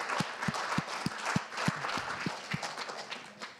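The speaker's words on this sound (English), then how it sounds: "Huge, huge round of applause there." Applause rises from the audience at an innovation fellowship pitch final in Vietnam. Steady, moderately distant clapping runs under a series of regular low thumps spaced about a third of a second apart.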